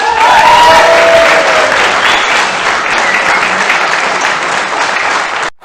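Crowd at an Edinburgh May Day rally cheering and applauding loudly, with dense clapping and whooping voices that hold steady before cutting off sharply at the end.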